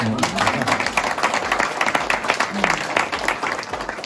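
A crowd at an exhibition opening applauds the deputy mayor, with rapid close handclaps in a dense, fluctuating burst and some voices talking over it.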